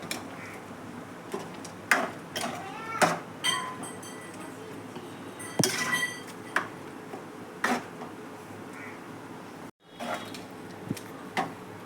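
Greens kootu with ground cashew-fennel coconut paste gets stirred in a pot, a spoon clinking and scraping against the metal in scattered knocks, fairly close, with no voices.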